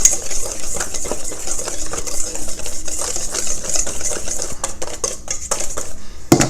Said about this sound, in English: I'm going to whisk this together to blend it.